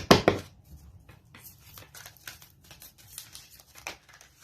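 Tarot cards are shuffled by hand, starting with a loud burst of riffling and then softer, irregular rustles and light slaps of card on card, close by with no voices.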